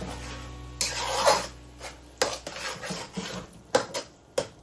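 A utensil mixes mashed eggplant in a pan with cilantro and a little sugar, giving soft scraping and rubbing strokes broken by several sharp metallic clinks against the pan, close by and with no talk.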